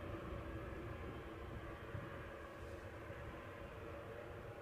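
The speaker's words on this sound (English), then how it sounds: "see if I can get you plenty of this jet. Can you hear it?" A jet aircraft at Newcastle airport produces a faint, distant and steady roar that holds evenly throughout.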